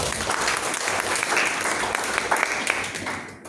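Congregation applause at a Sunday worship service in a church, a short burst of steady, fairly loud clapping that tapers off at the end.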